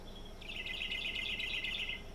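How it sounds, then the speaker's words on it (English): Loud birds singing in trees near a creek, a single bright bird giving a rapid trilling, chirping phrase that starts abruptly and runs for well over a second, clear and fairly close above a quiet outdoor background. "these are the loud birds, right? These are these birds right here."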